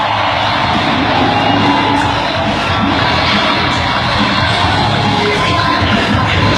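A large arena crowd at a freestyle motocross show in Pasay City cheers, whoops and shouts in a loud, continuous roar that holds steady throughout without letting up.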